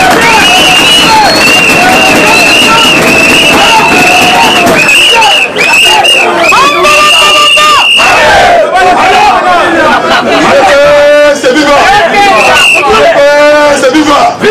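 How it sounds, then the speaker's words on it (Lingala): A large crowd at a UDPS political rally in Congo roars and chants loudly and continuously, with shrill whistles and shouted cries rising over the dense hubbub. "Acclamez pour Etienne Wanumba."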